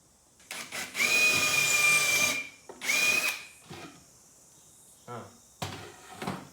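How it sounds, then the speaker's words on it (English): A power drill with a hole saw whines in two sustained bursts, close and loud, followed by clunks and knocks of handling. "drills a little pilot hole in them, then a hole saw"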